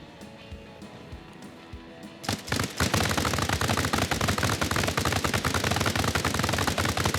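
Rapid, loud bursts of automatic gunfire in Arma Reforger begin after a quieter stretch and continue in dense, clattering volleys, like a video game firefight.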